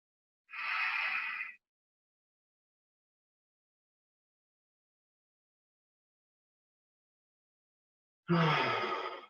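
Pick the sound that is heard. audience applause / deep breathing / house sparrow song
deep breathing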